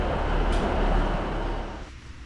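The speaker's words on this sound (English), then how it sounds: "Okehampton, and there's a train." A train rumbles at Okehampton station, a broad, steady low roar with a brief hiss near the start, heard fairly close and gradually easing off toward the end.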